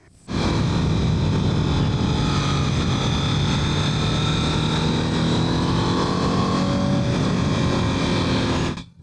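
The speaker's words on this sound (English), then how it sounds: "you notice that even the sound of the engine changed a little" A Honda Fireblade motorcycle engine hums steadily while riding in mode 1, a sustained loud drone with slowly shifting tone and rushing air, no talk.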